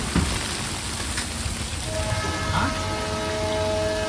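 Heavy rain pours onto a stopped train, a steady wash of hiss and patter close by, with faint tonal hums and a voice talking briefly underneath.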